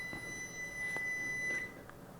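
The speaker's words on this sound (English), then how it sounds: "I hear like phantom oven beeps constantly" A faint, steady electronic beep tone held for over a second, resembling an oven timer, against a quiet room with a few soft clicks.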